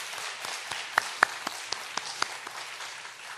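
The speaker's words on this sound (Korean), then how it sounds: "힘쓰고 애써서 준비한 오늘 연합 찬양대원들에게 다시 한번 큰 박수로" Church congregation claps in encouragement for a united choir. A few individual hand claps ring out sharply over softer, moderate applause that carries on evenly throughout.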